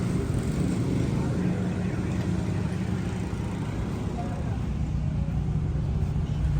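A rebuilt car engine idles steadily up close, a dense continuous low rumble that holds even throughout, with faint background noise and no clear talk.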